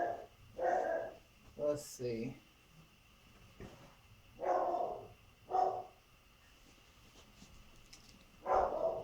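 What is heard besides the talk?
dog barking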